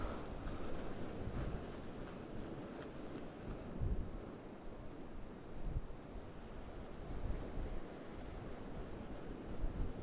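Strong coastal wind roars steadily against the microphone on a rocky shore in South Wales, broadband and gusting throughout with a few heavier buffets, no talk over it.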